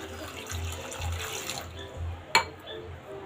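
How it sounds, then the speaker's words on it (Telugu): Water runs steadily into a pan of jaggery, a soft continuous splash with one sharp clink partway through. "దాంట్లో ఒక మీడియం గ్లాస్ వాటర్ అయితే వేస్తున్నాను"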